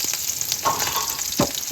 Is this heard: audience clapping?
no